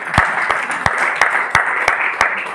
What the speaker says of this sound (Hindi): देखिए, ताली बजाने से 3-4 को फायदा है